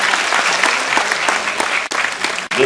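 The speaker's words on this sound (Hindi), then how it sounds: "जोरदार ताली बजाकर" Loud, dense applause from a large audience at the closing ceremony of a tribal crafts festival in Bhopal, continuous clapping filling the clip with brief dips near the end.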